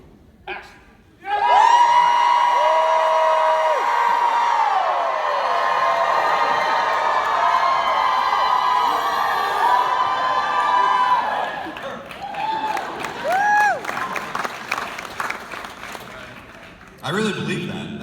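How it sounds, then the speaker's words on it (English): A crowd of fans at a convention Q&A panel cheers and whoops loudly and steadily for about ten seconds, with shrill shouts rising above the roar before it fades into scattered voices and talk. "That was a good cheer."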